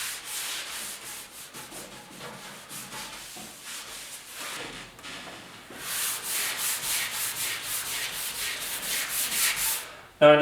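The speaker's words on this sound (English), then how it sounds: "we got to do some sanding, make sure that this is all prepped up" Steady hand sanding of the painted roof of a 1956 Ford pickup, a continuous rasping scrub with rhythmic back-and-forth strokes that grow louder and quicker toward the end, close by.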